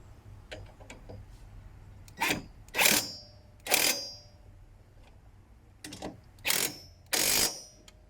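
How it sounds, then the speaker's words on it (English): An impact gun with a 13mm socket drives bolts on a strut brace in a 2014 Mustang GT engine bay: six loud, close, buzzing bursts of about half a second each, separated by short quiet gaps, with light clicks between. "now we're ready for a final fit using 13mm socket and my trusty impact gun"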